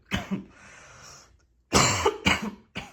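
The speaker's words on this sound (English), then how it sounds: "So if I cough in the video, I'm sorry about that." A cough, then a pause of faint background noise, followed by a few more harsh coughs in close succession, loud and close to the microphone.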